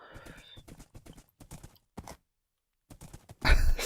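Horse galloping in Minecraft, quick rhythmic clip-clop hoofbeats in bursts, a brief pause, then more hooves and a louder rustle at the end.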